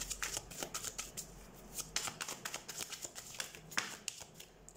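Tarot cards shuffled and drawn in quick rustling flicks and soft slaps, close and fairly quiet, with no talk.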